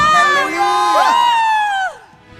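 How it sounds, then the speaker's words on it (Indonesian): Church congregation at a Sunday worship service cheering and shouting hallelujah, a loud swell of many voices with rising whoops that holds for about two seconds before dropping away. "Berikan sorak-sorak, katakan haleluya."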